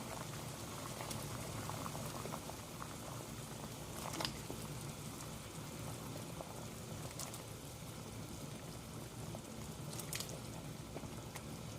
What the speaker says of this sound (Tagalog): our soup is already boiling